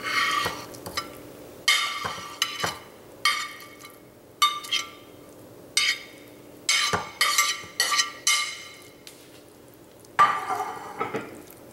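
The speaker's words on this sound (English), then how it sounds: "After the cheese is mixed, we're going to add the cooked vegetables." Ravioli filling of cheese and cooked spinach and mushroom stirred in a bowl, repeated scraping and clinking strokes in an uneven rhythm, close and moderately loud, with no talk.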